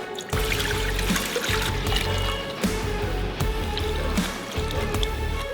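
Water trickling through holes punched in a homemade desi water filter, a steady close stream splashing into a container with a few brief breaks in the flow.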